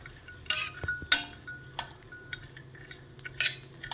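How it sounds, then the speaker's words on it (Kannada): A spoon stirring coconut as it roasts in a little oil in a pan: intermittent metallic clinks and scrapes against the pan, a few sharp and loud, others light, with no voices. "ನಾನು ಕೊಬ್ಬರಿ ಹಾಕ್ತಾಯಿದ್ದೀನಿ ಅದನ್ನು ಕೂಡ ಅಷ್ಟೇ ಸ್ವಲ್ಪ ಕೆಂಪಗಾಗೋ ಹಾಗೆ ನಾನು ಹುರ್ಕೊಳ್ತೀನಿ"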